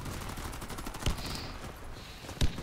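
AUG assault rifle fire in the shooter game Warface: two short, sharp shots about a second apart, punching out of a busy, muffled game soundscape.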